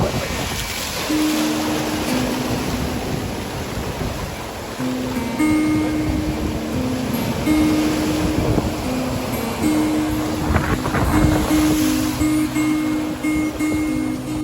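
Steady surf churns and rushes against rocks at Harihareshwar on the Raigad coast under wind noise, with a continuous roar of sea waves building and breaking throughout.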